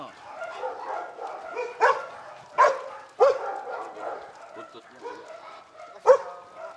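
A dog yips and barks excitedly in short bursts as its owner arrives, with whimpering between, mixed with a voice talking nearby.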